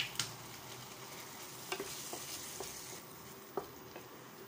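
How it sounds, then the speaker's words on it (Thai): Pizza filling sauce with tomato ketchup and honey simmers quietly in a pan, a faint low bubbling hiss with a few soft clicks and scrapes from occasional stirring, no voices. "แล้วก็เคี่ยวซอสพิซซ่าของเราผักชีฝรั่งไปนะคะ"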